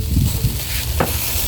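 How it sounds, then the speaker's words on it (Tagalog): Chicken grilling over an open fire at home, giving a steady close sizzle and crackle throughout, with a brief sharper hiss near the middle. "Grilled chicken."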